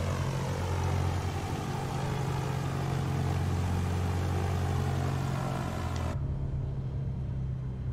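Cessna 172 light aircraft engine on the takeoff run, a loud steady droning propeller roar heard from inside the cabin, continuous and unchanging, without talk, cutting to a duller rumble near the end.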